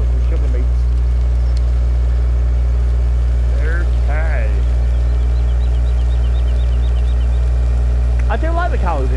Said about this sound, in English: It's a very nice tractor, and it's pretty powerful.